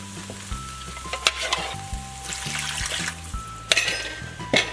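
A spoon stirs flour and stock together in a sizzling pan for a ham pie sauce, with soft bubbling and frying under repeated sharp scrapes and knocks of the utensil against the pan.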